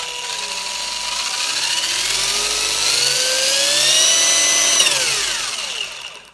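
A Tamiya Super Modified 11t electric motor in an RC car whines steadily, its pitch climbing as the throttle is held and then dropping sharply as it spools down, loud and close with no talking.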